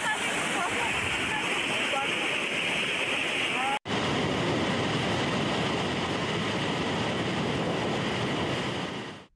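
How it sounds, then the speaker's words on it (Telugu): Floodwater released through the Nizamsagar dam gates into the Manjira river thunders in a loud, constant roar, broken by one abrupt cut before the churning resumes and fades out at the end. "నిజాంసాగర్ ప్రవాహం రావడంతో గేట్లనెత్తి మంజీరా నదికి నీటిని వదిలారు"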